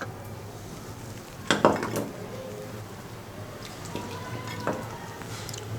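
Slow-cooked Lahori-style beef paya (trotters) is ladled into a serving dish, giving a couple of close clinks of spoon on pot and dish over a steady low background hum.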